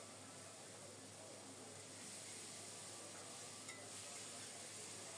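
Whole cumin seeds and a mixed spice paste fry in hot oil, producing an even, continuous sizzling hiss that stays steady and fairly soft for several seconds.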